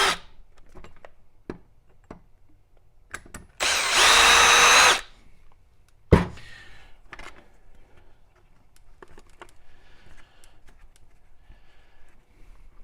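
A power drill backing screws out of an RC car's rear end, one loud burst of drilling for about a second amid quiet clicks and handling of small parts.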